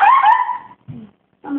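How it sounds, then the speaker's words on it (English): A puppy stuck up on a kitchen counter gives high, thin whimpers close by: a long drawn-out whine, a short low yelp, then another whine starting, with no talking over it. "the puppy wants to get off the counter"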